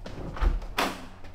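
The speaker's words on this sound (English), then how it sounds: "Dick, was that you banging on the door?" Someone bangs on a door inside a building in Gettysburg, Pennsylvania, giving two dull, fairly close thuds about half a second apart against a quiet background, with no talking.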